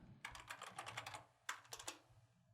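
Fast bursts of typing on a computer keyboard with rapid clicky keystrokes, a run of taps, a short pause, then another quick burst, close and fairly quiet, with no voice over it.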